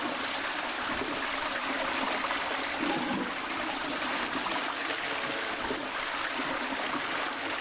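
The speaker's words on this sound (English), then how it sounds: "Does the water sounds make you go to the toilet?" Steady trickling water runs continuously at an even level, a soft broadband wash with no pauses and no voices.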